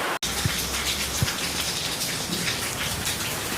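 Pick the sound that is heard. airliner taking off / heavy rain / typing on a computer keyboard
heavy rain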